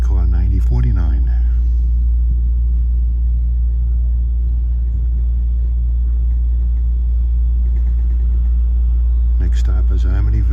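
LIRR M9 commuter car 9049 on a Babylon to Penn Station run, heard from inside: a steady, loud low rumble with a constant hum, running unbroken through the whole stretch.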